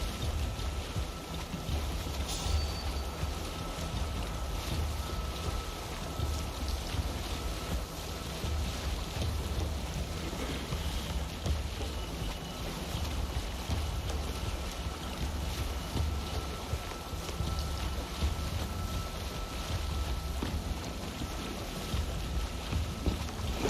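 A Viking longship under sail on open sea in Assassin's Creed Valhalla, with steady wind rushing past, waves washing along the hull and a constant low roar, no voices.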